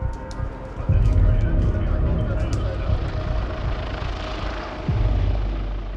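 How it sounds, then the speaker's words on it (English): A police helicopter drones low over the treetops at dusk, a steady rumbling whir with faint background voices and a few brief thumps. "The police helicopter was flying very low over the treetops."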